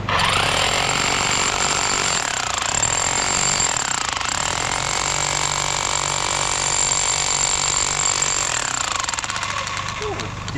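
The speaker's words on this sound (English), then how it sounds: "I can't control the jackhammer anymore" Jackhammer pounding rock to break out amethyst geodes, a loud continuous rapid hammering that runs the whole time, close by, with an engine droning underneath.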